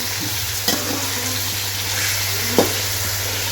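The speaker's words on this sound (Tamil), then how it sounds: "பாத்திரம் வச்சுருக்கோம், ஆயில் ஊற்றிருக்கிறோம், கொஞ்சம் கடுகு போட்டிருக்கோம், கருவேப்பிலை போட்டிருக்கோம்" Mustard seeds and curry leaves frying in hot oil in a pan, giving a steady close sizzle with a couple of brief sharp pops or stirs, no voices.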